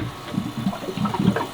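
Boat watermaker pump pushing water and air bubbles through a discharge hose, a close gurgling, sloshing sputter in irregular bursts, with no speech.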